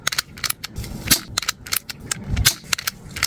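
Novritch SSX-23 and Tokyo Marui MK23 airsoft pistols firing, a string of sharp close snapping shots in irregular quick succession, some with a slide clack, no talking.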